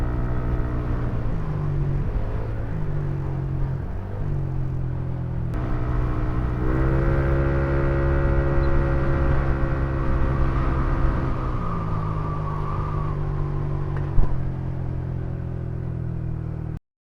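A Yamaha NMAX V2 scooter with an RCB SP500 exhaust rides onto a highway, its steady engine drone rising and falling in pitch as it changes speed, heard up close with continuous road and wind rumble.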